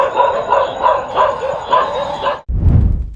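Several local dogs bark and yelp in a quick repeated rhythm, loud and close, in a nighttime street setting, ending with a burst of low rumbling noise.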